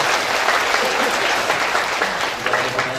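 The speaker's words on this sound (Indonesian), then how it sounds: "Tepuk tangan sekali lagi" Sustained audience applause at a Buddhist Dhamma talk, dense and steady clapping from a crowd, loud and continuous throughout.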